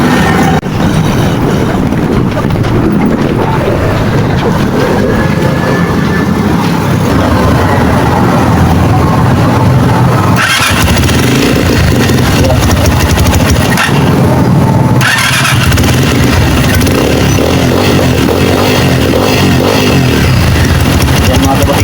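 A Rusi KRY200 motorcycle, just fitted with a new CDI after failing to start, runs with a loud, steady close-up engine drone that rises and dips slightly, with voices talking over it.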